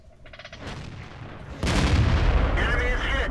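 A Panther tier VII medium tank fires its main gun in World of Tanks: a sudden loud boom erupts midway and rumbles on, followed by a ringing metallic hit cue, over engine noise.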